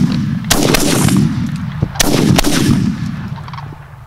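Loud, close gunshots: two or three sharp blasts about a second and a half apart, each followed by a long rolling echo that fades out.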